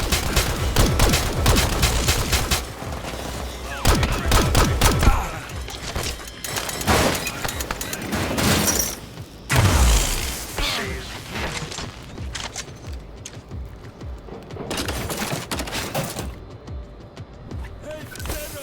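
Heavy gunfire from the military shooter La Quimera comes in repeated loud volleys and bursts, with explosive impacts and game voices mixed in and a thinner tail toward the end.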